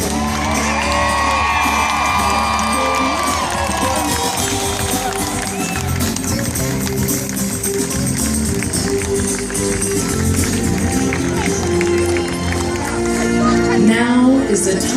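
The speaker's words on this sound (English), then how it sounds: "So let's return the favor now with a big cheer." A large crowd at a charity walk closing ceremony cheers and whoops for the event crew, a sustained roar of voices and shouts with some talk mixed in, swelling louder toward the end.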